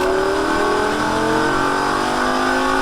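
A Lamborghini Gallardo engine screams at full throttle on a track in Las Vegas, a loud, steady high-pitched roar with the pitch climbing slightly.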